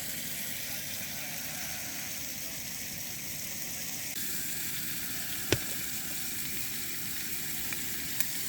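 Dinner frying on a camp stove at a wild camp on Grindslow Knoll, giving a steady, faint sizzle throughout with one sharp click partway through and a couple of small ticks near the end.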